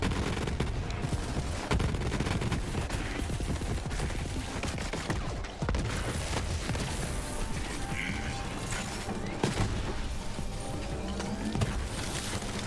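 Dense game gunfire and clanking mechanisms from a shotgun in Borderlands 3, with repeated blasts layered over continuous loud action sounds and almost no talk.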